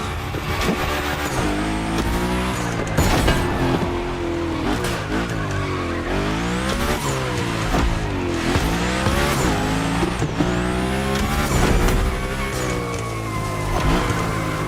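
A car drifts in the racing game The Crew Motorfest, the engine revving and swinging up and down in pitch while tires squeal and screech repeatedly through the slides, loud and close, with no talk.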